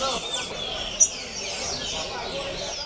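Wild songbirds sing among the trees at a bird breeders' club, with faint, overlapping chirps and calls at a distance and a voice talking nearby.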